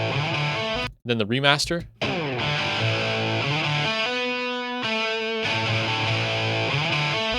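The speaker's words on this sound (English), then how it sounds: "Let's start with the intro guitar riff and see if there's any decisions that were made there." Distorted electric guitar riff opening a 1991 rock song, played in its original mix and then its 2009 remaster, sustained and loud with a brief break where a voice speaks between the two versions.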